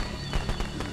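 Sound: fireworks in video game Friday the 13th

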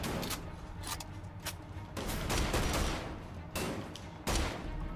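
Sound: gunfire in the video game Wolfenstein: The Old Blood

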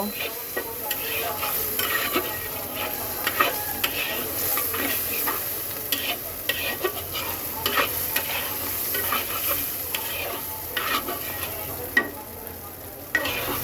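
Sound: frying fish in a pan

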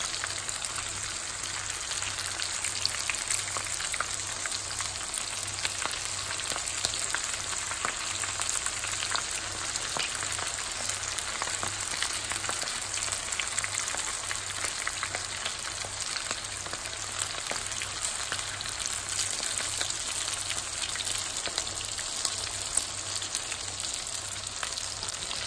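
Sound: stuffed jalapeno chilies frying in a pan

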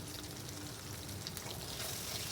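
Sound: refined oil and ghee added to hot oil after frying hilsa fish

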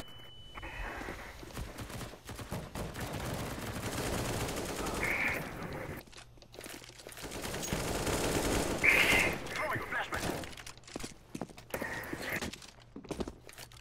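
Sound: AK rifle gunfire in video game Counter-Strike: Global Offensive

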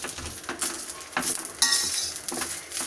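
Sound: stirring chennangi leaves while frying in a pan

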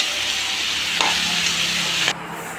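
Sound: mushrooms sautéing and being stirred in a pan

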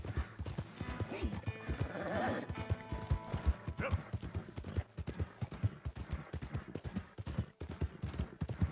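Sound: horse riding in Red Dead Redemption 2 video game

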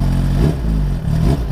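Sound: Suzuki GSX-R1000R motorcycle revving, Pipeworks decat exhaust

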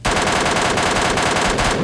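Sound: gunfire in video game PUBG Lite

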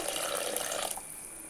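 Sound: pouring tamarind water into curry

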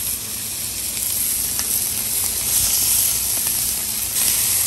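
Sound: thick-cut bacon sizzling in pan

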